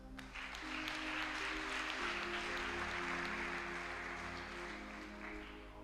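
Church congregation applauding in acclaim of Jesus Christ during a women's teaching and prayer programme, steady sustained applause filling the room over a held musical drone, continuous and fairly even throughout.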